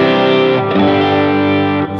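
An electric guitar chord rings out thick and sustained through a Helix tilt EQ with heavy added low end, one dense held tone that shifts slightly partway through, close and alone.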